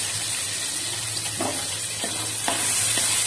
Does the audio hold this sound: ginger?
yes